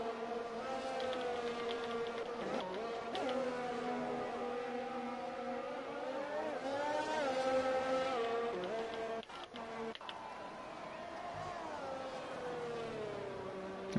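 F1 race cars on track at the Mexican Grand Prix in a racing video game: whining engine tones rise and fall in pitch as the cars accelerate and shift, moderately loud and continuous, with no voices.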